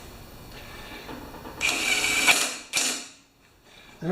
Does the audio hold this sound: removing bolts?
yes